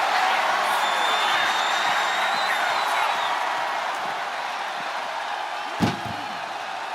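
Packed arena crowd roaring steadily in the wrestling game WWE 2K25, a broad constant wash of cheering that fades slightly toward the end, with one sharp slam-like impact near the close.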